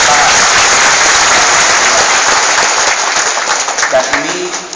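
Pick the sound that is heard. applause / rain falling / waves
applause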